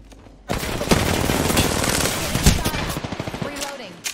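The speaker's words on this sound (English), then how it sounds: "Shot fired" Sustained automatic gunfire in the battle royale video game Apex Legends, loud and close, a continuous rapid burst lasting several seconds that breaks into spaced final shots.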